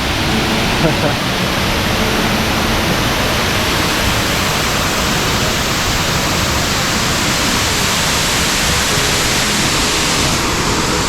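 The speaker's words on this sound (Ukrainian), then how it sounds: "Waterfall number nine." Waterfall beside a hiking trail in Oregon, a loud, unbroken roar of falling water that fills the whole stretch with steady, dense rushing noise.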